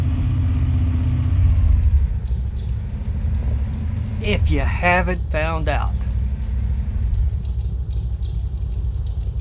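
A low truck engine rumble from the video game Farming Simulator 25 runs throughout, steady and droning, with a brief burst of speech partway through.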